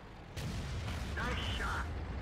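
A tank cannon fires in a tank video game, a sudden broadband boom followed by a sustained rumbling blast and brief higher mechanical tones, fairly loud and close.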